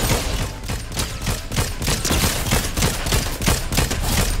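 Rapid bursts of gunfire in Fortnite crackle loud and close in an almost continuous rhythmic volley, with several distinct shots repeating every fraction of a second throughout.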